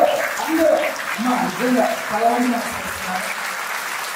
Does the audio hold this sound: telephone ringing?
no